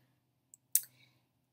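A computer mouse gives a faint tap and then a sharper click with a brief rattle in a quiet room over a low steady hum, with no talking.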